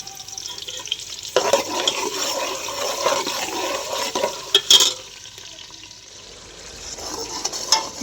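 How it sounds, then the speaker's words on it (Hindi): Onions browning in a pot on the stove, giving a steady sizzle with scraping and stirring clatter throughout, a few sharper metallic knocks partway through, then a brief lull before the stirring picks up again. "प्याज जो है ना ब्राउन होने के लिए रख दिए हैं"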